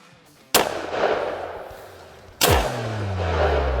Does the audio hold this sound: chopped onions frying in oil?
no